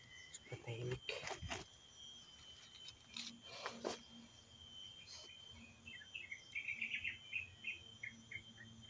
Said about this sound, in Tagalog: puro mga tunog ng mga ibon.